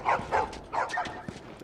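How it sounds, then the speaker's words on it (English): Dogs bark in The Last of Us Part 2 video game, a few short yips and bow-wows in quick succession, moderately faint and close together. "The dogs."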